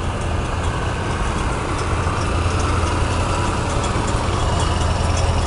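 New and antique tractors, including old Fords, John Deeres and Masseys, idle while lined up for a rural tractor fun ride, giving a steady, loud, low diesel rumble close by with no speech.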